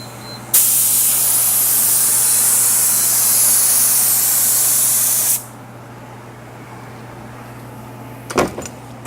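Hydrographics activator sprays onto dipped film in one loud, continuous hiss lasting about five seconds, followed by quiet room tone and a brief clatter near the end.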